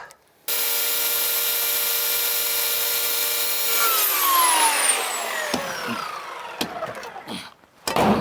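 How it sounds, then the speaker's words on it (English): Continuous rasping of a hand saw cutting through wood, fairly loud and close, ending with a few knocks and scrapes. "I even like sawing with my non-dominant hand"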